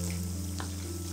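Corn fritters fry in hot oil, a dense, constant sizzle, close and steady, over a low background hum, with a brief soft stirring or splatter near the middle and no voices.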